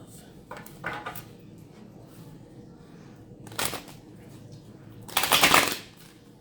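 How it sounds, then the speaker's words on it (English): A holographic deck of cards is shuffled close by in three riffling bursts, each a quick papery flutter, with the last one longest and loudest, over a quiet background. "It's a little difficult to shuffle, a little bit for me."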